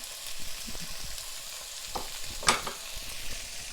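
Freshly chopped garlic frying in a pan, giving a soft steady sizzle with scattered crackles and a few sharper pops and scraping stir sounds near the middle, close and fairly quiet, with no talking.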